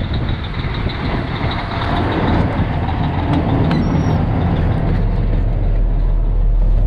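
Inside the cab of a semi truck running bobtail, with no trailer, on the highway toward Winnipeg: a loud, steady engine drone and road rumble, with faint rattles and a brief high tone, and no talking.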